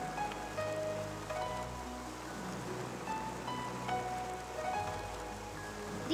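Rain falling in a steady, even hiss of drops on surfaces, fairly faint and continuous, with no voices over it.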